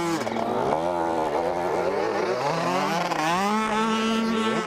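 Motocross motorcycle at a French veterans' championship, its engine revving up steadily and loudly in rising, wavering tones for several seconds, close by, with no talk over it.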